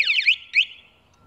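A motorcycle security system alarm sounds alone, two quick rising-and-falling electronic chirps in a row, loud and close, fading out into quiet.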